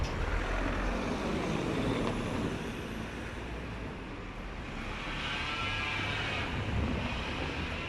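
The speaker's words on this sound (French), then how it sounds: "il y a beaucoup de voitures qui passent" Traffic rolls past on a street with concrete nearby, a continuous loud rumble and swelling whoosh of vehicles passing close by without pause.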